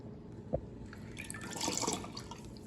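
Lemon juice dripping and trickling into a measuring cup while making lemonade, a faint close-up patter of small drips with a brief pour-like swell in the middle.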